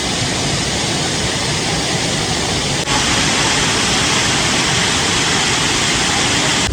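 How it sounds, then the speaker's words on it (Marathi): Small waterfalls at Nhavankond falls near Talavade village, a steady, dense rushing of falling water that fills the scene loudly and evenly without pause. "तर मित्रांनो, इथे छोटे छोटे धबधबे आहेत."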